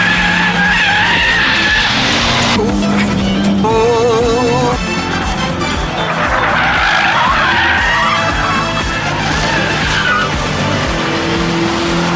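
A diesel Skoda hot hatch racing on track, tyres squealing and skidding loudly through corners while the engine revs hard, continuous and close, with no talking.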